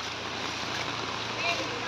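During Typhoon Carina in Navotas, floodwater rushes in a steady broadband wash, close and continuous, with speech from people present over it.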